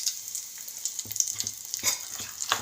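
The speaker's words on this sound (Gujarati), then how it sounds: "બરોબર કકડી ગયું" Asafoetida crackling in hot oil in a Gujarati home kitchen, a close, continuous sizzle with rapid popping spatters, with no voices.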